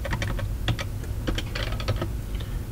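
Fingers tap a computer keyboard in quick irregular bursts of clicks, close and fairly quiet, with no voices.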